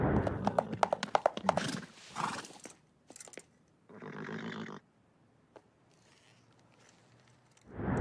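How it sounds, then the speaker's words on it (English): A horse's clip-clopping hooves and a loud whinny come in bursts, followed by a rough snort and quieter noises, with lively cartoon-style effects from an animated series. "That wasn't the first time we got to see Peter on a horse, though."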